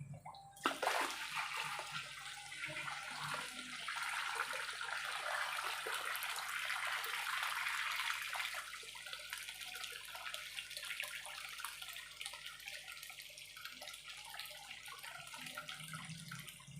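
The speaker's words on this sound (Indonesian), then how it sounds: "ini nanti airnya saya masukkan lagi ke kolamnya ya teman-teman" Water poured from a bucket back into a fish pond, a continuous close splashing gush that runs strong for several seconds, then eases into a lighter steady trickle, with no voices.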